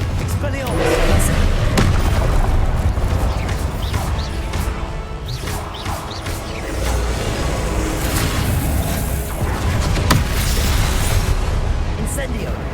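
Confringo explosive spell cast repeatedly in Hogwarts Legacy combat during Percival Rackham's Trial, heard as loud, dense crashes and booming bursts that keep coming back amid constant fight noise throughout.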